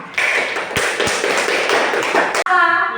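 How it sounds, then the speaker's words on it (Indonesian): A classroom group breaks into dense, close applause, many hands clapping together for about two seconds before it cuts off and a voice begins speaking. "beri aplaus untuk kita semua"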